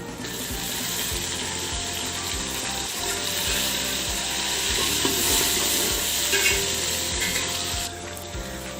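Chopped tomatoes sizzle steadily in a hot pan over browned garlic-ginger paste for chicken biryani, with continuous frying hiss and repeated stirring scrapes, close and loud throughout with no talking.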